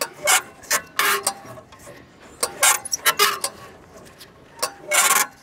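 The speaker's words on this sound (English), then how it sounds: "Let's go ahead and turn the flywheel." The flywheel of a 60-year-old hay baler is turned by hand, producing irregular bursts of rasping, ratcheting mechanical clatter separated by short pauses.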